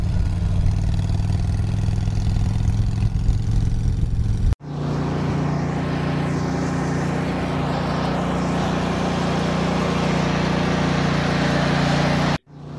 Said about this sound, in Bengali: এমন সময় পিছন থেকে একটি ট্রাক খুব জোরে তার পাশ দিয়ে বেরিয়ে যায়।